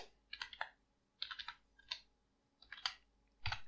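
Bursts of typing on a computer keyboard while entering Python code for a tkinter window, with clusters of quick keystroke clicks separated by short pauses, close and clear.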